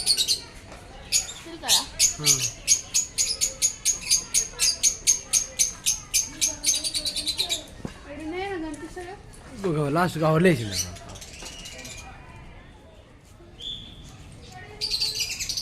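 Budgerigar parakeets in an aviary at a park in Hyderabad, their chirps and squawks rising in a rapid rhythmic burst and then in scattered calls, while people talk nearby.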